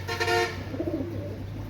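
Pakistani KTM teddy pigeons give a short, low bubbling coo near at hand, just after a brief tooting tone at the start.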